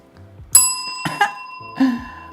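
A bright bell sound effect chimes three times, each ring a sharp, clear ding that quickly fades, spaced about half a second apart, with faint tones underneath.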